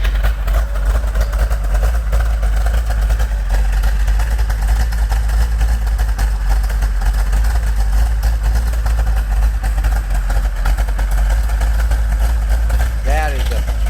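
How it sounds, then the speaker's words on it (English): A 1970 Plymouth Cuda with a 440 Six Pack V8 idles steadily up close, its aggressive camshaft giving a deep, loping rumble that stays continuous and loud throughout. "Let's take a listen to this camshaft."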